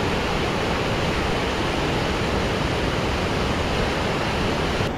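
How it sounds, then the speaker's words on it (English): Waterfall in Lathkill Dale in the Peak District, a steady loud broadband rush of falling water, close and unbroken with no voices. "we finally got our waterfall."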